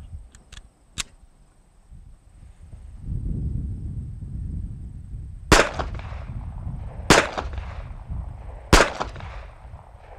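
A Luger carbine with its stock folded in pistol mode fires 7.65 Luger rounds as three sharp, loud shots spaced about 1.5 seconds apart, after quieter clicks and handling at the start.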